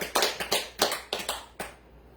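A church congregation claps for Jesus in a short burst of about nine uneven, fairly faint hand claps that thin out and stop.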